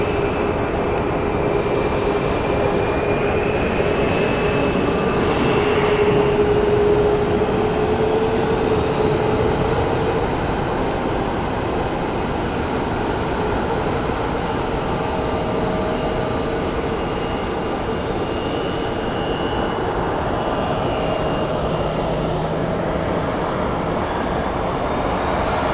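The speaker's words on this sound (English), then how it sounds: "Next up for departure is going to be Mesa Airlines as Flight 6189 going to Denver on a Mitsubishi CRJ 900ER." A Mesa Airlines Mitsubishi CRJ 900ER regional jet departs on a hot day, its loud, sustained jet roar carrying on with a slowly sliding whine as it passes, no voices over it.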